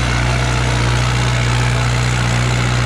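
A New Holland 5630 4WD tractor engine idles at a steady low rumble with a strong low hum, loud and close, with no talking.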